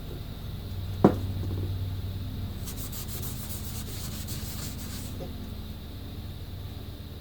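A rag works citrus-based Vandal mark remover over decades-old marks on a 60-year-old air compressor, giving a faint, steady rubbing hiss, with a single sharp knock early on and a brighter scrubbing stretch in the middle.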